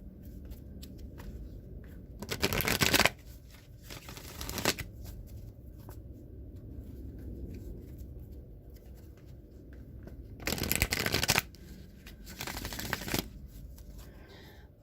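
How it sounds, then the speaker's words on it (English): A Wisdom of the Oracle card deck is shuffled by hand in four short, crisp riffling bursts with quiet pauses between them, close up in a still room. "I'm going to go ahead and shuffle the Wisdom of the Oracle deck 3 times."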